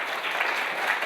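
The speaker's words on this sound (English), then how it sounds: "You're supposed to applaud with that." Students at the Nixon Library applauding, a brief steady burst of crowd clapping at even loudness throughout.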